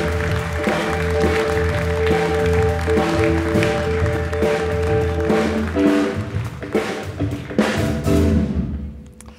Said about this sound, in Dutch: een hartelijk applaus voor Jan-Jaap Oerlemans